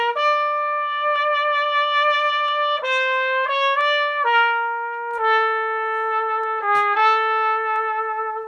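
A trombone played into a music stand plays a slow series of sustained notes with a slightly muffled, covered tone, each held about a second, alone with no talking.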